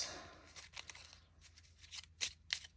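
Playing cards riffled and shuffled by hand at close range, a soft papery flutter with a few sharper snaps toward the end, quiet and without speech.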